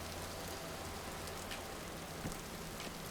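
Steady rain falls across an outdoor scene in the game Vintage Story, a dense, even hiss of drops with a low droning hum beneath, continuous and unbroken for the whole stretch.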